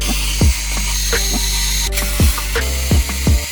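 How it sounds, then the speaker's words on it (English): A screwdriver backs screws out of the metal covers of a Lenovo ThinkCentre all-in-one computer, with a few short metallic clicks and ratcheting taps spaced about a second apart over a low steady hum. "Now let's remove the screws that are holding the metal covers."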